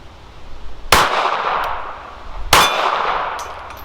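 Two loud metallic clangs ring out about one and a half seconds apart as .380 rounds from a Ruger LCP II pistol strike steel target plates outdoors, each clang decaying into a brief ring.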